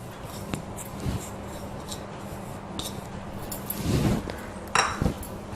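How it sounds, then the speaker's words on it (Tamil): Soaked toor dal poured into a metal pressure cooker for sambar, making scattered clinks and taps against the pot with a brief rattling pour near the end, heard close and fairly quiet with no speech. "அந்த துவரம் பருப்பு போட்டுடுறேன் குக்கர்ல."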